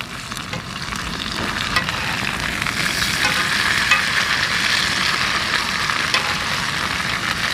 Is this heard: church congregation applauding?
no